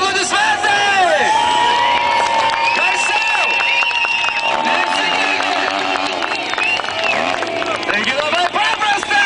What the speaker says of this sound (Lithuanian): jūs aplodismentai!